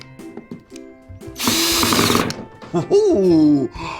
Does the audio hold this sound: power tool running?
yes